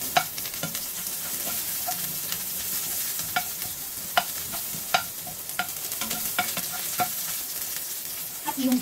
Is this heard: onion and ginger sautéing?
yes